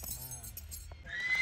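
A horse whinnies during training in a farm setting, a clear harmonic neigh at moderate distance over background noise and faint voices, followed by a brighter high-pitched tail.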